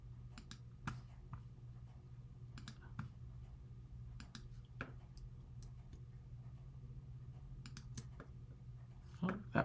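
Computer mouse clicks while drawing with a pen tool: several sharp, faint clicks spread irregularly over a steady low background hum, with a slightly louder cluster at the end.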